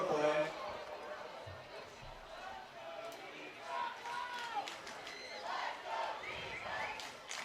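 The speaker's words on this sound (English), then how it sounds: "Shawnee crowd getting into it." Home crowd at a Shawnee varsity football game cheering and shouting, a broad roar of many voices held steadily throughout with rising yells mixed in.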